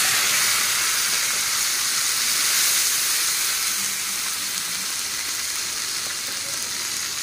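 Chopped garlic, green chilli, ginger and onion hitting hot oil over panch phoron, a loud, steady bright sizzle and hiss that holds throughout and eases slightly toward the end.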